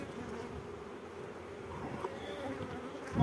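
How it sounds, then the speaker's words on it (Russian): A swarm of honey bees buzzes steadily near a large hive, a dense continuous drone at moderate level with no talk, swelling slightly louder at the very end. "Рой вылетел из этого большого улья, я думаю, скорее всего"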